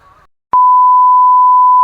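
A single loud, steady censor beep holds for over a second after a short burst of muffled speech and a brief pause.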